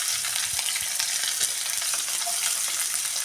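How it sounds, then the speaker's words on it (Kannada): Chopped onions go into hot oil with mustard seeds, cumin and dried red chilies, giving a loud, steady, close crackling sizzle with faint occasional stirring taps and no talking throughout. "ಕಟ್ ಮಾಡ್ಕೊಂಡಿದ್ದೆ ಈರುಳ್ಳಿ ಹಾಕ್ತಾಯಿದ್ದೀನಿ."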